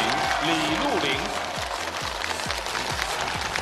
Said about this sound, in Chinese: 掌声有请李露玲，